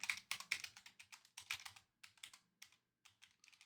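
Quiet, close keystrokes on a computer keyboard tap out in quick irregular bursts with brief pauses between them, and no voices are heard.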